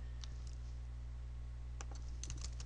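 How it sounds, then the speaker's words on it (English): Keystrokes on a computer keyboard typing into a Start menu search on Zorin Linux, a few light clicks early then a quick cluster of taps near the end, close and quiet over steady hum. "I am going to type in"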